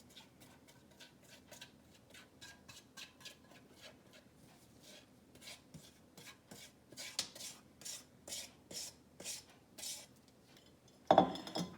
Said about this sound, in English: And you're going to stir it in well. Just keep mixing it right through.